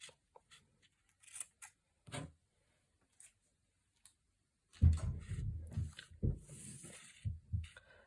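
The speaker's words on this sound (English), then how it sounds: "Use my sharper scissors." A few crisp snips of scissors cutting paper, sparse and quiet at first, then a denser run of cutting and handling sounds close by.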